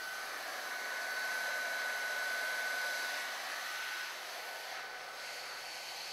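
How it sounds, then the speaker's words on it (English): CV 1981 heat gun with a PR26 reflector, set to 230 to 250 degrees centigrade, blowing hot air in a steady, close, even whoosh with a thin fan whine that eases off slightly toward the end. "Use a CV 1981 heat gun and PR26 reflector set at 230 to 250 degrees centigrade."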